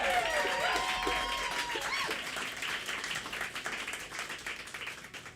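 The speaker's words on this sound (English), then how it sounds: "Give the do-gooders a round of applause" A crowd at a music event claps steadily and densely, loud at first and slowly fading, with whistles and a few shouts mixed in.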